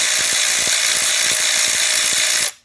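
A 12-volt cordless long-neck ratchet, comparable to a Harbor Freight unit, whirs continuously at a steady high pitch up close for over two seconds, then stops abruptly.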